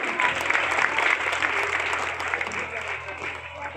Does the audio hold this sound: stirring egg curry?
no